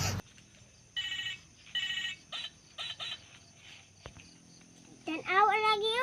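A mobile phone rings with an incoming call, its electronic ringtone bursts repeating at a fairly even pace under quiet background noise, with a voice speaking near the end.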